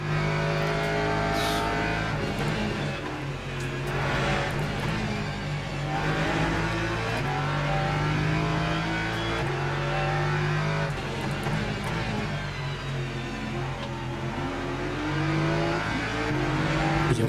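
Race cars including a Porsche in Le Mans Ultimate, engines droning and revving continuously with shifting pitch as cars accelerate and brake through a chicane, loud and steady throughout.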